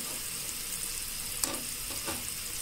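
A steady soft sizzle of green chillies and dal frying in a pan while being stirred, with a couple of faint scraping knocks, no talk.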